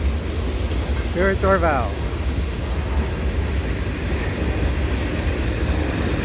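CP and CN freight trains pass at Dorval with a continuous heavy rumble of rolling cars, while someone speaks briefly over the noise near the start.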